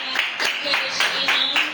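Church congregation clapping in rhythmic unison, regular strong claps roughly twice per second, close and fairly loud, with a voice speaking over it.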